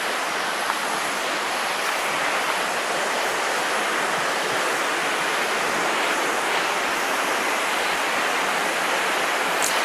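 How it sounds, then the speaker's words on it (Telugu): The Soochipara waterfall rushes in a loud, constant roar of falling water heard close by, steady throughout with no speech over it. "ఇక్కడైతే లైవ్లో వాటర్ ఫాల్ సౌండ్ అయితే చాలా బాగుంది"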